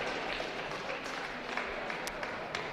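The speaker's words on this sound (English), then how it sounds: "A lot of clapping going on there." A basketball crowd claps steadily through a timeout in the gym, a sustained wash of many hands at moderate distance with occasional scattered voices mixed in.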